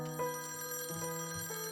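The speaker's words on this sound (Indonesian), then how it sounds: "terdengar suara telepon berdering" An old-style telephone rings in a quiet room in a boxing drama film, its bell tones repeating several times with sustained harmonic ringing, close and fairly loud with no voices.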